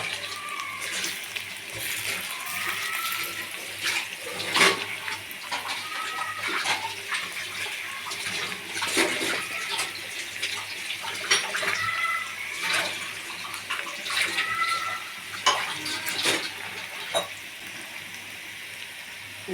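Chicken pieces for chicken 65 fry in hot oil in a pan, giving a continuous loud sizzle with frequent sharp crackles and pops throughout, close up, with no talk.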